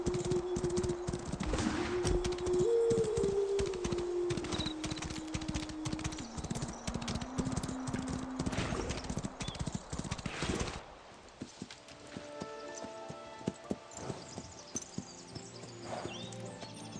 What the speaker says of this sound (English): Here you go, I'm a horse.